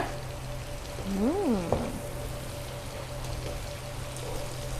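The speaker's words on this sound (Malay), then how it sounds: "kita guna minyak yang sama untuk kita masak lauknya" Cooking oil pours into a pan for frying curry prawns, a brief soft pouring hiss over a steady low kitchen hum, followed by quiet ambient noise.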